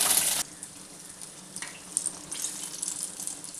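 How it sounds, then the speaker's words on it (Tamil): Urad dal medu vada frying in hot oil, a soft steady sizzle with occasional crackles after a brief louder burst at the very start. "எண்ணெயில் நல்லா பொரியடுங்க"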